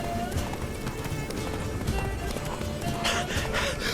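Roach, a horse in The Witcher 3: Wild Hunt on PS5, gallops with steady rapid hoofbeats under game music and effects, a brief neigh rising near the end.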